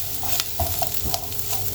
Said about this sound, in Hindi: ये चीज़ें मैं जो हैं इनको यहाँ पे ज़रा हाई फ्लेम पे ही आपने इनको सौते करना है